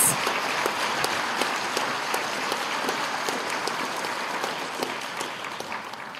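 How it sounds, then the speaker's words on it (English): A junior high awards night audience claps for honor students in an even, sustained wash of applause that holds steady at moderate volume from start to finish. "let's have a round of applause for our students who achieved honors in all 5 classes"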